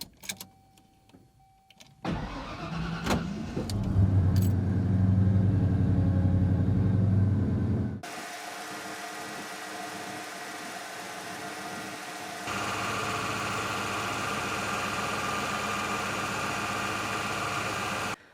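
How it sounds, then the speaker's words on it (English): A 1980-1996 Ford Bronco with an upgraded 3G alternator cranks and fires up, revs loudly for several seconds, then settles into a steady idle with a slight shift in tone partway through, close and without speech. "now let's fire her up and see how she does"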